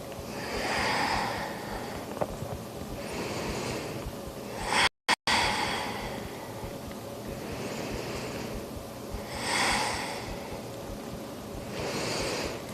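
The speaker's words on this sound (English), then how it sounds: "Breathe in and breathe out. 4 breaths here." Slow yoga breathing, close and audible: long airy inhales and exhales in a calm, even cycle of about four breaths, no talking.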